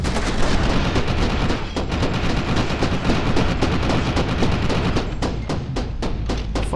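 Gunfire in a video game: dense, rapid volleys of loud shots and booming blasts running continuously, with distinct repeated bursts toward the end, no voices.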